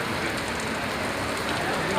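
Heavy rain pouring steadily in Porto Velho during a long downpour, a dense continuous hiss of drops hitting surfaces, loud and close with no break.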